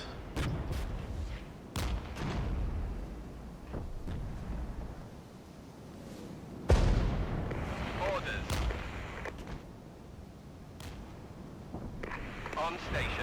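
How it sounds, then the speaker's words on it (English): Friendly mortar fire in the Regiments war game, a series of sharp booming thuds and distant explosions at irregular intervals, with someone talking between the blasts. "So some friendly mortars here."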